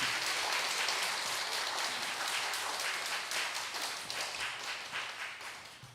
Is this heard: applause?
yes